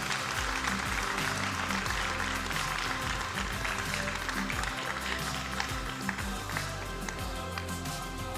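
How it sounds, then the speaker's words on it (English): A sustained round of audience applause for a speaker at a sustainability conference session on retrofitting cities and buildings, dense, steady clapping with no pauses. "Please give a warm round of applause for the head of Earth Plus, Elena"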